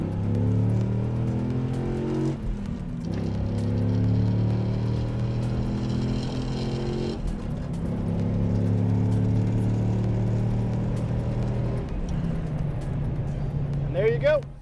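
Dodge Ram SRT-10 pickup with its V10 engine accelerating onto a highway, a steady loud engine drone with rising harmonic sweeps as it climbs through the gears, heard from inside the cab.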